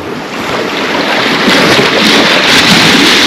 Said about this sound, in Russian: И все-таки она меня настигла из-под тишка сзади. Я про волну.